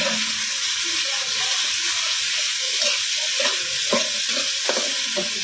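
Garlic, onion, ginger, carrot and long beans fry in oil for fried rice, making a loud, dense sizzle with stirring scrapes and clacks of a spatula throughout.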